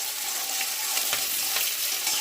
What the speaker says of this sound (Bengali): পেঁয়াজটাকে হালকা করে ভেজে নিতে হবে। এখন এর মধ্যে 4-5টা কাঁচা লঙ্কা কুচি দিয়ে দিলাম।